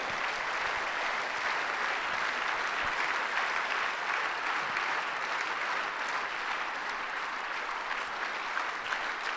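Dense, steady applause from an audience welcoming a guest onto the stage. The clapping holds at an even level without letup for the whole stretch.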